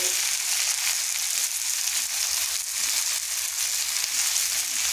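Cumin and coriander powder sizzle steadily in a hot pan for a Bengali besan fulauri curry, a dense, even hiss with faint scraping from stirring, close and continuous throughout.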